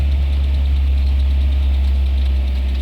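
Car engine held at 2000 RPM during CVT clamping after a transmission replacement, a loud steady low drone close by with no variation over the few seconds.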